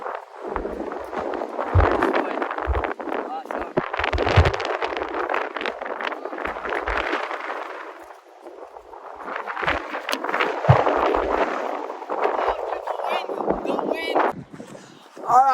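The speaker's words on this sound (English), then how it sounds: "the wind is way too strong around us right now" Strong wind gusting outdoors, roaring and buffeting the microphone in two long surges with a brief lull between, loud and close, while people talk over it.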